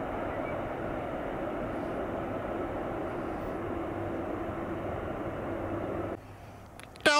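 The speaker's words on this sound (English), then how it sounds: "Delta's 132 from the Motor City, as I said, as promised." Delta Airbus A350-900 jet at Amsterdam Schiphol, a loud, steady broadband engine roar heard from nearby that holds evenly and then drops off suddenly near the end.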